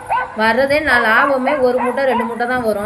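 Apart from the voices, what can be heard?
dog barking played through loudspeaker to scare birds from crops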